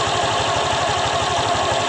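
Honda Vario 125 automatic scooter idling after CVT cleaning, a loud, close, steady engine putter with an even rapid pulse and no talking.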